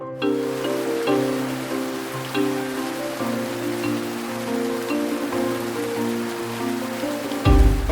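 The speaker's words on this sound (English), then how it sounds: "Caught in a massive rainstorm." Heavy rainstorm in Coron Town, Philippines: a steady wash of rain hiss fills the scene, with a low droning hum running underneath and a louder rumble at the very end; no one speaks.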